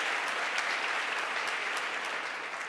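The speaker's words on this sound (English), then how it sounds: "they deserve a really big round of applause" A conference audience gives a round of applause, a dense, even wash of many hands clapping that holds steady and fairly loud for the whole stretch.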